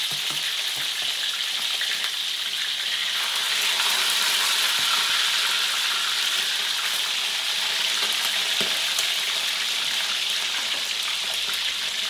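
Tulingan (bullet tuna) frying in a pan of oil, a loud continuous hissing sizzle that carries on evenly throughout, close up with no one talking.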